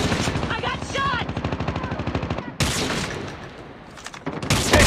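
Rapid bursts of automatic fire ring out in the mobile shooter Call of Duty Mobile, a steady rattling stream that breaks off abruptly, then gives way to scattered shots and noise that swells again.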